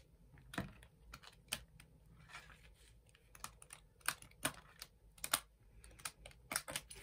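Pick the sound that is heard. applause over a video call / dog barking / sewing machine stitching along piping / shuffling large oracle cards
shuffling large oracle cards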